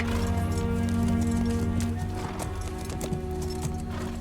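A horse trots unhurriedly, its hooves clip-clopping in a steady rhythm beneath a sustained, droning musical score, moderately close but softened.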